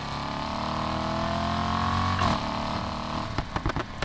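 An Audi S5 V8 engine in Need for Speed Heat drones with rising pitch as it accelerates, then fades and gives way to a series of short sharp clicks and bumps.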